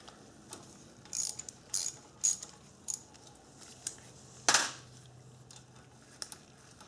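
A quarter-inch ratchet with a 10 mm socket backs off a bracket bolt on a Speedy Lift floor jack, giving several short bursts of close, crisp clicking separated by pauses, with one sharper metallic clack midway.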